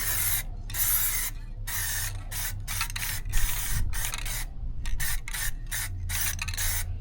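Spray gun laying down a coat of paint in repeated bursts, each pull of the trigger giving a steady hiss broken by short pauses; close and fairly quiet, no talk.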